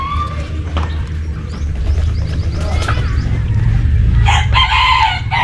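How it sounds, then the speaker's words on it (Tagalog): A rooster crows loudly near the end, over a steady low rumble and faint background clatter at an outdoor spot. "Yan yung manok kanina."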